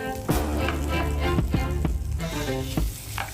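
Marinated chicken breast frying in a pan, a loud close sizzle punctuated by several sharp crackles and spatters as pieces are laid down, no voices.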